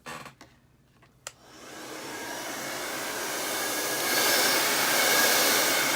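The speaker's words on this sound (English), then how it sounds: "we're going to hit this with a dryer" A hair dryer blowing on a burlap Santa craft switches on after a few light handling clicks, then runs as a steady, loud, close whoosh that grows slightly stronger and continues alone.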